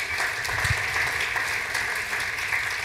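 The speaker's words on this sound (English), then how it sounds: "Give a cheer." Audience applause and cheering at a Huntington's disease research talk, a steady dense wash of clapping that fills the whole stretch without pause, with no voices over it.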